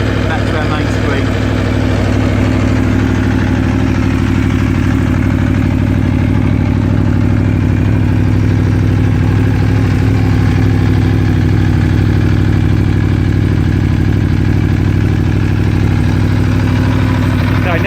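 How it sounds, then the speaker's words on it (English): A V4 motorcycle engine idles steadily and loudly after warming up, a low, even rumble with faint mechanical clatter running unbroken throughout. "Now the engine's warmed up a little bit"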